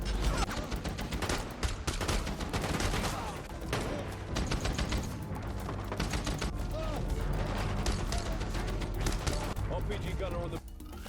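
Sustained bursts of rapid gunfire and mechanical clatter from the series The Terminal List: Dark Wolf fill the whole stretch, with a voice talking over the action.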